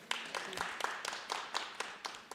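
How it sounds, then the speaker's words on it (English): At a panel discussion on religious pluralism in America, a small audience applauds: distinct, separate claps in an uneven rhythm, fairly quiet and sparse, with a little murmuring underneath. "Let's give a round of applause."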